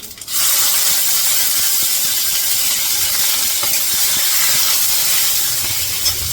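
Garlic, green chili and curry leaves hit hot oil with cumin and mustard seeds, giving a sudden loud, steady sizzle that crackles on without pause for several seconds, with no voices.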